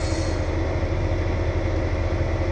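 A new truck's engine in a farming simulator game, a steady low droning hum held at an even level throughout without any speech.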